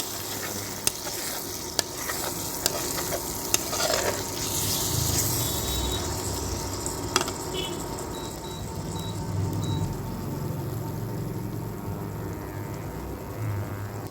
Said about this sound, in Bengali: এভাবে ভালো করে নেড়ে চেড়ে মিশিয়ে নিতে হবে